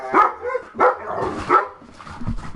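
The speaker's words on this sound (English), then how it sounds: "And here come the dogs." Dogs barking, three or four loud close barks at a rough half-second rhythm, followed by lower grumbling and whimpering sounds.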